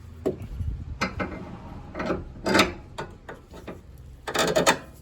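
A sway bar end link is forced and shoved into place on a 2012 Hyundai, giving a series of irregular metallic knocks, clunks and scrapes close by, ending in a rattling burst, with no talking.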